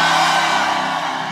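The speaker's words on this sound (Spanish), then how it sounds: "levantemos el grito de júbilo más fuerte que hayamos levantado en nuestra vida" A large crowd lets out a loud, sustained shout of joy together, a dense roar of many voices held for over a second at full strength.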